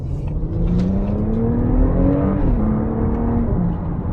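A 2025 Audi SQ5 engine revving under hard acceleration, a loud continuous rise in pitch that climbs steadily, shifts once and keeps pulling, heard up close without talk.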